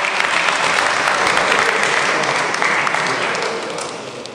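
An audience claps at a San Juan de Avila 2015 church gathering honouring a friar, dense sustained applause close and loud for several seconds, tapering off toward the end.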